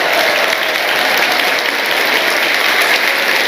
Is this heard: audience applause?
yes